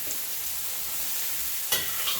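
Sweet onions frying in a pan make a continuous close sizzle, with a sharper burst of crackle near the end as they are stirred or shifted, and nobody talks.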